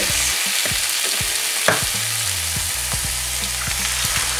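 Eggs and potato hash fry in a skillet, a loud, steady close-up sizzle with a few soft clicks and a brief scrape near the middle, no voices.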